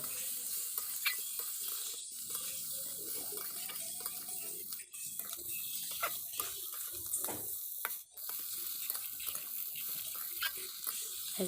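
Fried bottle gourd peel and fish are stirred in a pan with fenugreek tempering, giving a soft continuous sizzle with light scraping and occasional clinks of the utensil.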